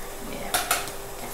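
Two quick clinks of a utensil against a bowl while sweet potato brownie batter with cocoa powder and sugar is stirred, close and fairly clear over a quiet background.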